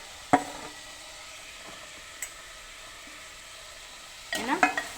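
Spring onions and green peas frying in a pan for a cauliflower green peas curry give a faint, steady sizzle. A few sharp stirring scrapes and clatters sound at the start, midway and near the end.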